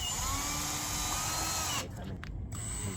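Power tool whirring steadily near at hand while taking out 10mm screws from the grille of a 2013-2020 Mercedes S-class W222, a continuous loud drone for most of the time that cuts off abruptly, followed by brief quieter bursts.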